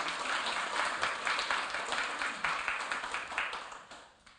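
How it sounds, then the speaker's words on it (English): Audience at a lecture on Brexit claps for a speaker, a soft, fairly distant patter of many hands that stays even and then fades out. "Round of applause for Dr."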